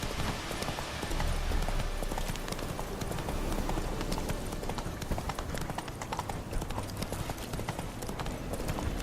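Roach the horse in The Witcher 3 trots with steady, dense clip-clop hoofbeats throughout, loud and continuous over a busy game soundscape.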